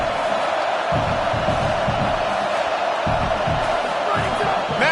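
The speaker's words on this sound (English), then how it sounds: "This crowd knows when to bring it." Stadium crowd in the NCAA 25 college football video game, a constant roaring wash of cheering with rhythmic swells, beneath a commentator's voice.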